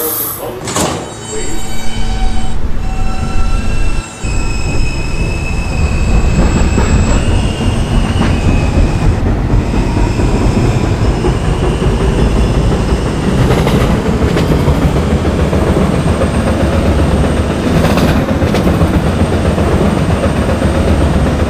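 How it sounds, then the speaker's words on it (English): A subway R train runs at night with a steady loud rumble of wheels on rails, occasional squeals and door sounds, and an announcement voice speaking over the noise throughout. "This is a Ridgeworth Island bound R train via the N line."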